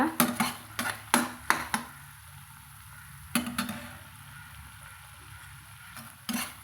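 Metal spoon clinks and scrapes against a pan while crushed cinnamon bark and fennel are stirred into hot oil, a quick run of sharp taps at first, then a pause and a few more clatters over a faint low hum.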